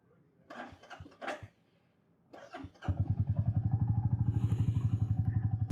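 A motorcycle for an off-road ride comes after a few thumps and clunks, firing up close by and settling into a steady, throbbing idle.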